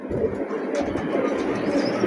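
Fancy pigeons kept for sale coo in soft repeated rolling calls close by, over a steady background murmur with no talk.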